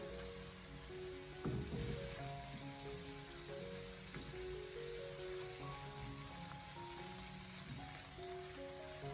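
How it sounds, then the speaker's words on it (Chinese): Peeled shrimp pan-frying in a little hot oil over medium heat for a broccoli stir-fry, a soft continuous crackling sizzle, steady and fairly faint, with light background tones. "油热以后再将虾仁放进锅里面，先把虾仁摊开，开中火把虾仁慢慢的煎制一下"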